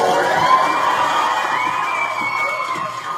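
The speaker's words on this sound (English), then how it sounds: "let me pause for applause" A canned crowd sound effect plays, with loud, sustained cheering, shouting and whooping voices from a large group rather than clapping, steady and close throughout.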